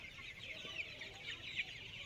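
Sonali hybrid chickens, about thirty days old, cluck steadily in a farm shed, a dense continuous flock murmur at moderate level with a few sharper calls standing out.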